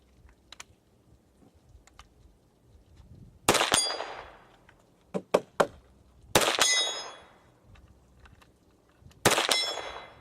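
Shots from wooden-stocked SKS rifles crack outdoors at intervals, several sharp reports each followed by a ringing clang from steel targets downrange.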